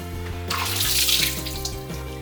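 Tap water runs steadily into a kitchen sink while soaked cashews are drained, a continuous splashing rush that swells in the middle, with no voices.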